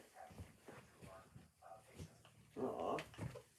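Puppies let out of their space, whimpering and yipping softly in short bursts close by, with shuffling and a door or cupboard sound, under quiet talk from people in the room.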